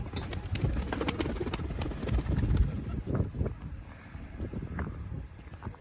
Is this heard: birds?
yes